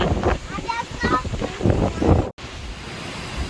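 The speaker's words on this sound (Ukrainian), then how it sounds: "Хочу ось показати вітер який" Wind rushes and buffets the microphone beside a lake while a person talks over it, the gusts continuing briefly after the voice stops.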